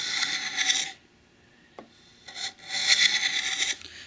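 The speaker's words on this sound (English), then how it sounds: "what I'm doing right here is I'm just going to bevel this end a little bit" Hand tool beveling the end of a pine candle box, heard as two close, raspy wood-shaving strokes separated by a quiet pause with a small tap, the second stroke longer and steadier.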